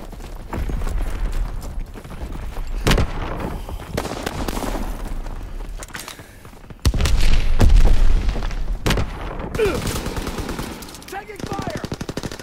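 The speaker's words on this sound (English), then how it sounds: "Taking fire!" Gunfire in the World War II shooter game Call of Duty WW2, with loud rapid machine-gun bursts and scattered single shots, a heavy stretch of firing midway and booming impacts. Voices shout briefly over the combat.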